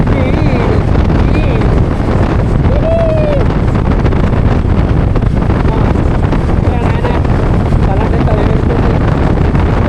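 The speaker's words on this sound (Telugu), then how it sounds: "ఏంద్రా ఇంత గాలి వస్తుంది, గాలి రావద్దనంటే గాలి వస్తుంది." Loud, constant wind roar buffets the microphone on an Xpulse 200 motorcycle ride up Khardung La pass in Ladakh, a dense rushing noise filling the whole stretch with a voice faintly underneath.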